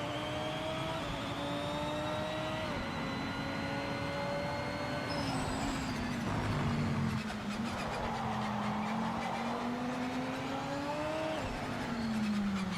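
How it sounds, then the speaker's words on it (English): Race car in the Project Motor Racing sim revving steadily as its cold tyres are spun up, a continuous engine drone with pitch rising and falling and some tyre scrub, loud and close throughout. "I know that the tyres are cold, so I'm trying to spin up the tyres and warm them up."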